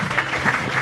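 An audience breaks into a burst of applause at an app launch and art exhibition, with steady dense clapping throughout the short moment and no talk.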